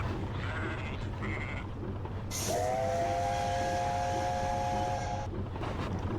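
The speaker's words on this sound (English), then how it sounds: "But then they heard a familiar whistle." A steam engine whistle sounds in a children's story scene: a sustained, clear multi-tone whistle blast lasting about three seconds, rising out of a rumbling, low background with faint talk before it.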